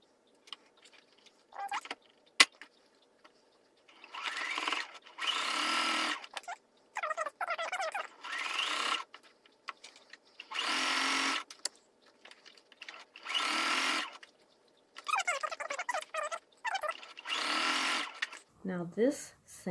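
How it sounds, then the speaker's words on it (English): A sewing machine stitches a seam around a fabric trash or craft caddy, its motor buzzing in repeated bursts of a second or two with pauses between, close by, while someone talks in the gaps. "Now this seam or stitch, you want to go all the way around."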